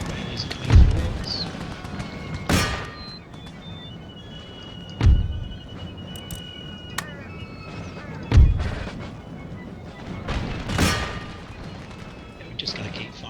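Troops open fire in an Empire: Total War battle, with five heavy booming volleys spaced a few seconds apart, each rolling off into a rumble over a steady noisy battlefield background.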